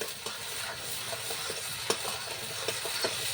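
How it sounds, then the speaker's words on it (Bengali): Chopped onion, ginger paste, garlic paste and chili paste sizzle in hot oil while being stirred for a stuffed pointed gourd and fish roe dish, with a steady close frying hiss and occasional scraping stirs. "সেই তেলের মধ্যে আমি দিয়ে দিব পেঁয়াজ কুচি আদা বাটা রসুন বাটা লঙ্কার বাটা দিয়ে আমি ভালো করে নাড়িয়ে নেব"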